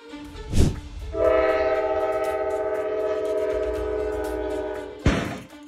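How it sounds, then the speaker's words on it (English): A train horn blares in a long sustained chord as a train hits a semi-truck in Marion, Ohio, framed by two loud rushing impacts or passing bursts, with heavy rumbling underneath. "Train hit semi-truck in Marion, Ohio."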